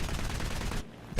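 The 20mm cannons of a P-51 fighter in the War Thunder air battle game fire a rapid, dense burst for most of a second, then stop abruptly, leaving quieter engine noise.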